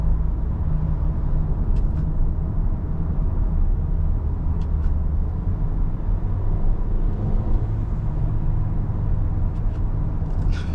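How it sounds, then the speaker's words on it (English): Steady engine drone and road rumble inside a Volkswagen Taos with an automatic transmission after it shifts down while driving, continuous and fairly loud with a few faint high ticks. "Let's get a downshift."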